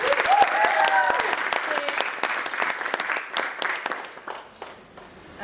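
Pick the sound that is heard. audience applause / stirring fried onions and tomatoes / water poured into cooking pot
audience applause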